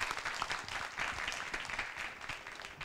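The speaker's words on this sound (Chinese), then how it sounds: "我们谢谢用掌声谢谢孙大川先生今天给我们演讲" Audience applause after a university lecture by Sun Ta-chuan at National Tsing Hua University, a sustained, dense patter of many hands clapping in a hall, fairly faint and steady.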